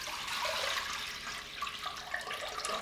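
Water pours steadily into a pan while making kombucha, a continuous close splashing rush with faint surges, no voices.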